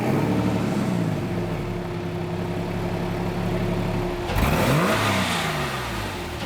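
A sports car engine on cold start, first idling steadily, then blipped to full noise with a sharp, loud rev that swells and falls away near the end.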